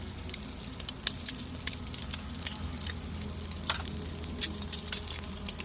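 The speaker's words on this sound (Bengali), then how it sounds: "এটা কিন্তু শেষ পোচ তো এটাকে ভেজে নিচ্ছি" An egg poach fries in a pan for egg cutlets, giving a steady close sizzle with fine crackling pops and spatters throughout.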